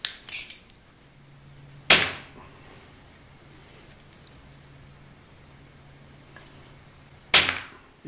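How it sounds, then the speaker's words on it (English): Two sharp, loud snaps ring out several seconds apart as a bolt cutter shears short lengths of piano wire, with quiet handling noises between them and no talk. "This is where I'm going to put my bolt cutter."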